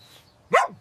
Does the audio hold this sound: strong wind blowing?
no